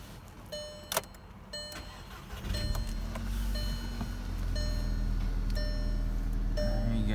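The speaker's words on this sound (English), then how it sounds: "Here's your cold start." A 2013 Volkswagen GTI starting from cold: a few door and interior clicks with warning chimes, then a quick crank catching into a loud, steady high idle that holds to the end while chimes continue.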